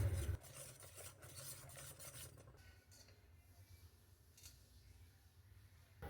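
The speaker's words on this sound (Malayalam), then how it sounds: "ആവശ്യത്തിനുള്ള ഷുഗർ ചേർത്ത് നന്നായി ഇളക്കി യോജിപ്പിക്കുക" A spoon stirs milk, milk-powder batter and sugar in a pot for arrowroot pudding, making soft scraping and swirling strokes close up, louder at first and then quieter, with no talk.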